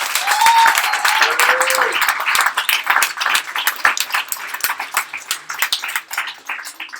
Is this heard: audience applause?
yes